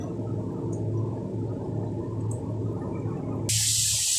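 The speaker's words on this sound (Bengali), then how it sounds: "দেখুন জলটা টকবক করে ফুটে উঠেছে।" Water at a rolling boil in a cooking pot for mango chutney, a steady low bubbling churn heard close, ending in a sudden brighter hiss near the end.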